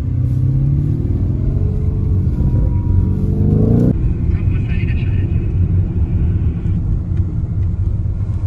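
An expensive car driving into the Dubai desert, its engine rumbling steadily and rising in pitch as it accelerates, with a shift partway through. The car is heard from inside, and a person talks over the engine noise.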